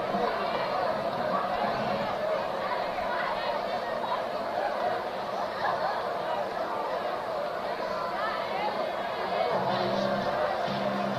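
Steady crowd murmur and chatter fills the stands at a high school football game, Waco High versus SA Roosevelt at the Derrick Johnson Kickoff Classic, a continuous broad hubbub with scattered voices and laughter throughout.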